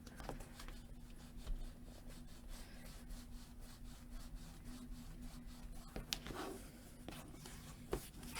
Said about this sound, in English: go ahead and burnish that in as you lift up and burnish so that it's gluing down